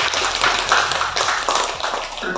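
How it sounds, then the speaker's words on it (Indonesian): Applause from a gathered audience for a community health (Perkesmas) team, steady dense clapping sustained throughout at close range, fairly loud, with no talk over it. "Tepuk tangan untuk sahabat."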